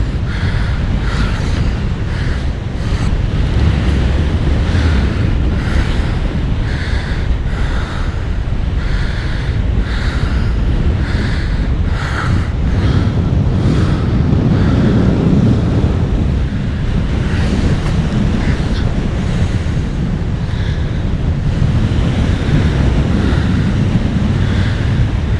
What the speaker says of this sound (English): Yeah, that wind's good.